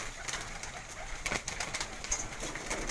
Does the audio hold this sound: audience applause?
no